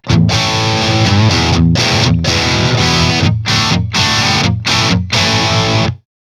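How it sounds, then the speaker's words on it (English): Loud, crunchy overdriven electric guitar chords through a Friedman BE Overdrive pedal on a 2022 Squier Affinity HSS Fat Strat, strummed in bursts separated by short breaks, with no voices. "kick on the Friedman BE Overdrive and kind of get a little bit more of a crunch style distortion"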